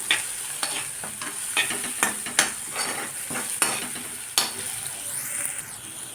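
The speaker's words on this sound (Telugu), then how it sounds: "కొంచెం చిక్కడు పసుపు వేయండి కొంచెం నూనెలో వేగనివ్వాలి" Turmeric fries in hot oil for vegetable Maggi noodles, a steady close sizzle broken by repeated scraping stirs of a utensil against the pan.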